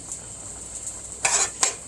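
Utensil scraping and clinking against a pot of chicken kalguksu broth on the stove in a busy restaurant kitchen, two short stirring bursts over a steady background hum.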